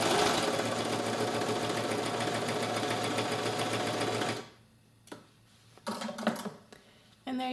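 A serger sewing normal-size sequins onto a fabric edge hums and clatters loudly and steadily for about four seconds, then stops, followed by a few scattered clicks and handling noises.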